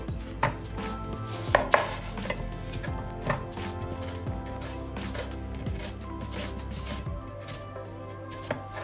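Onions are chopped on a board with irregular close knife taps and clatters against a background of kitchen clinking and a low hum.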